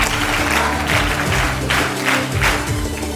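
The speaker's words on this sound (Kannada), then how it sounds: "ಮತ್ತೊಮ್ಮೆ ಅವರಿಗೆ ಜೋರಾಗಿ ಚಪ್ಪಾಳೆ ಮೂಲಕ" Loud, steady applause from an audience at a school uniform distribution event, thanking the guests; dense clapping continues without pause over a low musical hum in the hall.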